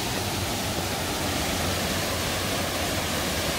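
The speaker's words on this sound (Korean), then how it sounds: "양쪽에서 물이 칼칼 내려옵니다" Steady, dense rush of a twin waterfall in Naeyeonsan valley, South Korea, a continuous broadband roar with no pauses, heard up close.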